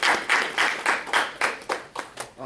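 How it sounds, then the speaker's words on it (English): A small group at a pitch presentation claps in a series of separate, fairly close bursts, roughly a handful of claps spaced evenly over a couple of seconds, with no voices heard. "applause."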